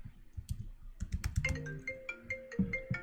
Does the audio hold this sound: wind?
no